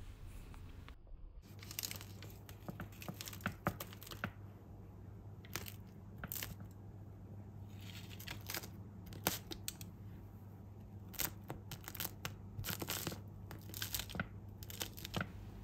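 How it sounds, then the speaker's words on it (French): Crisp crust of homemade two-ingredient sourdough bread crackling and crunching, a long run of sharp, close crackles and snaps of varying loudness over a low steady hum, with no voices. "Il ne reste plus qu'à écouter le bruit de ce croustillant."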